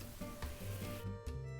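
Chicken nuggets air fry inside a ChefCubii 4-in-1 countertop steam oven, giving a quiet, continuous sizzle over a soft humming tone, with brief crackling bursts.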